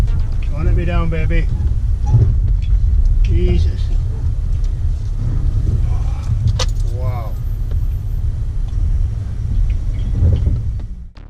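A ute's engine runs steadily on a bush trail, giving a low continuous rumble heard close up beneath brief bits of speech.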